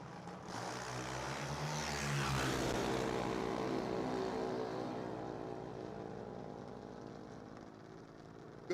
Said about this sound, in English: Good little drag race going on.